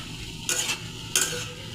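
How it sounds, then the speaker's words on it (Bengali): A spatula stirs garlic into salted bottle gourd peel frying in a pan, two sharp scraping strokes cutting through a soft, steady sizzle. "রসুনটা ভেজে কিছুক্ষণ ভেজে তারপর এই কাঁচামরিচগুলি দিয়ে আরো কিছুক্ষণ ভেজে নেব"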